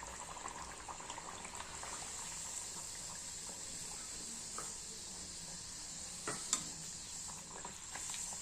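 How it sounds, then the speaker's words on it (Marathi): Spinach (palak) puris frying in moderately hot oil, a faint steady sizzle with light bubbling and a couple of soft clinks from a spoon or slotted ladle, no talking. "आता आपण पुरी तळूया."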